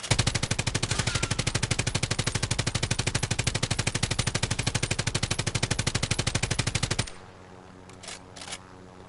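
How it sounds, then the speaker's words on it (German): Fast, continuous machine-gun fire in a PS4 video game rattles loud and steady for about seven seconds, then cuts off into quiet background with a faint trailing sound. "Wer schießt denn da auf Einer. uns?"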